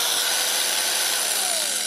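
A hammer drill rated at 1500 watts runs steadily off a Jackery Explorer 1500 Pro portable power station, giving a loud, continuous whirring drone with no pauses.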